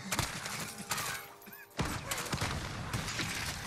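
Gunfire in Call of Duty Warzone on the Verdansk map: dense bursts of loud shots with thuds and a brief lull in the middle, all close and harsh.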